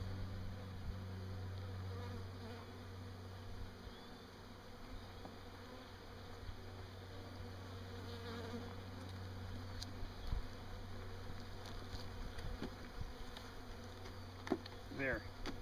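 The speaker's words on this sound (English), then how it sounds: "I got to get the rest of the bees out of their box" A colony of bees buzzes as they are shaken out of their box, a dense, steady drone throughout with occasional closer passes and faint handling noises.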